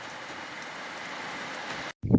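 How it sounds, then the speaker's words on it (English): Steady daytime rain falls in a dense, even hiss that stops abruptly, followed by a brief low thump. "So happy it's raining during the day again."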